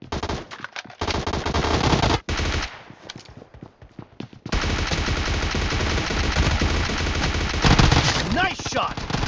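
Automatic gunfire in the mobile shooter BGMI: loud bursts of rapid shots, a brief gap, then sustained heavy firing that runs to the end with a few faint voices mixed underneath.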